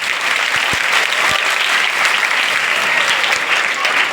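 Loud, dense applause from an audience welcoming a guest at a self-defence event for girls, a continuous roar of clapping from start to finish.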